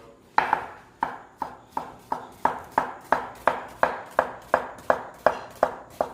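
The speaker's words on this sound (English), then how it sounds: "they're not crazy about onions, so I try to cut them up nice and small" A knife chops an onion on a cutting board in a steady series of about sixteen sharp, close, evenly spaced thuds, each strike clear, with no talking.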